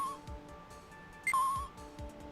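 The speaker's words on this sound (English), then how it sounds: "What's beeping?" A device beeps in Phoenix Wright: Ace Attorney – Justice for All, a cell phone giving a short, faint electronic tone followed by a brighter, slightly louder beep amid quiet background game sounds.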